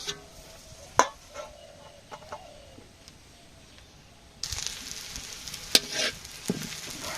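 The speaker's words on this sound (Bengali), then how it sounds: "পেঁয়াজ ভাজি করবো" Onions frying in a pan, a low steady sizzle with scattered clinks and stirring knocks, growing louder and hissier partway through as more frying kicks in.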